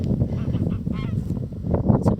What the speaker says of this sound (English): So in the path just up here we've got some more geese.